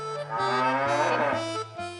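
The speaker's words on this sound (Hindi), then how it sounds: "ये सचमुच भैंसों की आवाज लग रही है" Buffaloes bellow in a long, deep, droning call, loud and close, with the pitch shifting a few times over two seconds and no voices over it.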